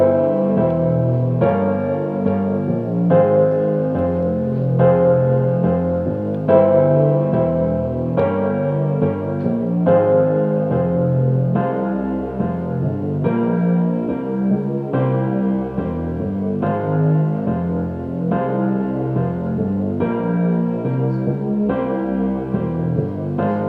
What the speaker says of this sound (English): And then the piano with the bass sounds like this.